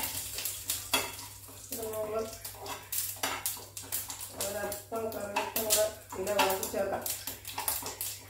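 Urad dal and curry leaves frying in a pan for a Kerala-style thoran, giving a steady sizzle with occasional stirring and utensil clinks beneath continuous speech.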